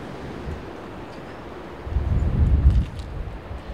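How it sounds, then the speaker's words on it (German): Strong wind buffets the exposed South Cape coast of Norway in autumn, a continuous low roar that swells into a heavier rumbling gust midway before easing, with no voices. "Klar, es ist immer sehr, sehr windig hier."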